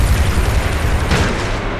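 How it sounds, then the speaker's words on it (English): Loud, dense explosion blasts from the video game Grand Theft Auto 3, a continuous rumbling boom with a sharper burst near the middle, no voices. "There's explosions!"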